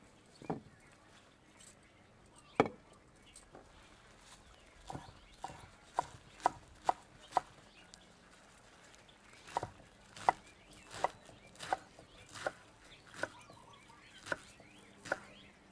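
Fresh spinach, trimmed, cleaned and dried, is chopped with a knife on a board: a series of distinct, sharp taps, sparse at first, then a steadier rhythm, close up and fairly quiet.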